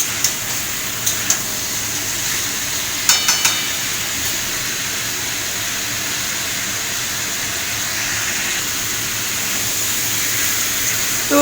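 Mutton curry with papaya being sautéed in a pan gives a steady, close sizzling hiss throughout, with a few faint clicks of a utensil near the start.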